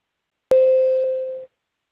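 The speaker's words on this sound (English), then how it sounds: "we will sound a tone that sounds like this" A single steady electronic warning tone marking three minutes left in a court oral argument, about one second long, clean and alone in silence.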